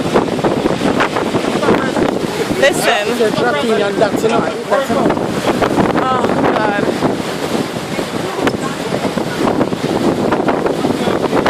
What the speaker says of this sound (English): Oh, wow, look at these waves.